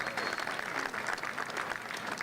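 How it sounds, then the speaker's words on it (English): Crowd applause at the Manhattan Jewish Hall of Fame induction ceremony for an honoree, dense continuous clapping from a sizable audience, fairly soft and even throughout. "Can we give the future Hall of Fame member, Howard Teach, a big round of applause?"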